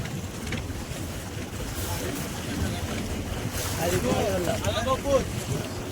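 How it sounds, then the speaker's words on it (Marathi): Steady wind roars across a boat, mixed with rushing water, and a voice speaks briefly near the end. "वारा बघा किती."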